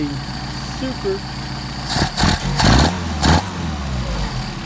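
A Mercedes 190SL engine fitted with Solex 44PHH carburetors is hot-started and then idles with a steady close rumble and a few short revs. Someone talks over it.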